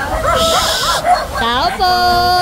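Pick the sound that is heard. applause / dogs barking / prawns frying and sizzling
dogs barking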